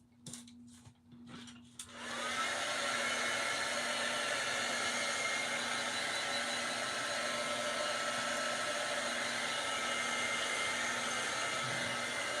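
A hair dryer drying a craft project made from a smashed tin can, with a few brief knocks before the blower starts, then its loud steady whirring hum running close and continuous.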